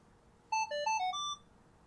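A Minelab Equinox 900 metal detector powers on with a short electronic jingle of several clear ascending beeps, alone against quiet background hiss.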